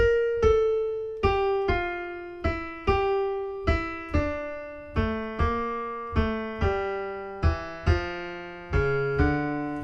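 Solo piano plays a slow, clear run of single notes and chords struck one after another, each ringing and decaying, with a descending bass line underneath.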